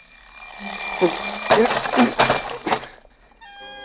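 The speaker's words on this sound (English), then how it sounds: "The alarm clock broke it up just when it was getting good." An alarm clock rings with harsh, rapid bursts amid voices in a 1949 radio drama, then cuts off abruptly, leaving a brief tonal chime at the end.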